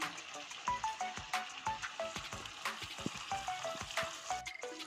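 Chicken masala frying in a pan as the meat is cooked down, a crackling sizzle with rhythmic stirring scrapes and sharp pops, fairly close and moderate in level, without talking.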